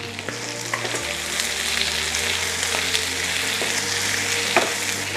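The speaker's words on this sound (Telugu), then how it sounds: "ఇప్పుడు ఇంకా ఫ్రై అవుతుంది." Chicken liver with turmeric frying in a pan, giving a loud, continuous close sizzle with occasional stirring clicks and scrapes throughout.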